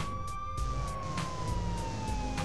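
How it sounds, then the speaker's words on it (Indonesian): Police siren in the Patrol Police job simulator video game, a steady electronic wail gliding slowly downward, fairly close and continuous, heard alone without talk. "Kita pasang sirine aja."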